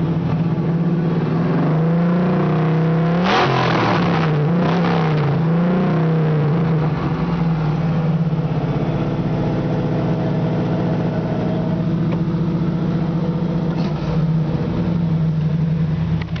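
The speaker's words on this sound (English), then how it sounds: "Got a really nice aggressive sounding Flowmaster exhaust." A 1973 Camaro Z28 engine with a Flowmaster exhaust rumbles at idle with a deep, aggressive note, rising in a couple of sharp revs early on before settling back to a steady burble.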